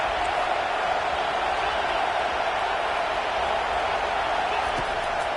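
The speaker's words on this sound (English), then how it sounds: "Decibels rising as the crowd gets behind this defense on 3rd down." Football stadium crowd roaring on third down at an SEC college game, a dense, steady wall of loud cheering and noise with no break across the stretch.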